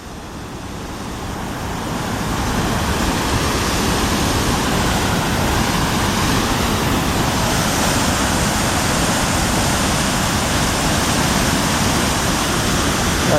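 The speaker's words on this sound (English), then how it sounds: "here's the top of the waterfall right here" Tahquamenon Falls, seen from the top of the waterfall on the river, roars as a steady, dense broadband rush that swells in over the first two seconds and then holds loud and unbroken, with no voices.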